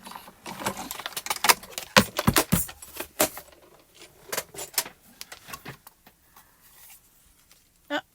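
Paper is cranked through a die cutting machine with a delicate script die, giving a dense run of clacking, rattling pulses that thin out into scattered clicks and a final knock.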